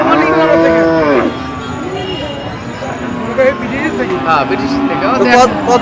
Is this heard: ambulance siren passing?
no